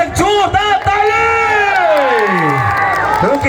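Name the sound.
audience applauding and cheering at a stage event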